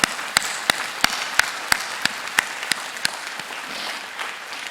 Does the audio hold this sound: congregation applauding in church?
yes